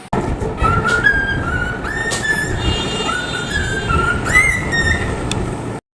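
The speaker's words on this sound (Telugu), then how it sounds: "విజిల్ ఎంత క్యూట్గా ఉందో, చాలా అంటే చాలా బాగుంటుంది" A pet cockatiel gives a repeated, rising whistled phrase several times over several seconds, clear and close, above a steady background of noise.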